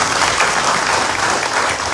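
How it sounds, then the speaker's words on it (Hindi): A political rally audience in Agartala, Tripura applauds steadily, a dense, loud, continuous patter of many hands clapping together with no pause. "आप हमारी बात से अगर सहमत हो तो मोदी जी के लिए जरा ताली बजा दीजिए।"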